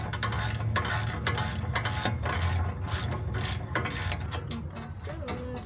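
Ratchet wrench with a short 17 mm socket working a stubborn bolt during brake rotor and pad replacement on a Lexus LS400, giving steady, close, rapid pawl clicking in repeated bursts throughout.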